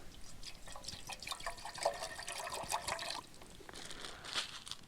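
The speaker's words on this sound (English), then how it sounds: "Pour some water." Water pours and splashes into a pot for a few seconds, a steady close trickle that thins out toward the end.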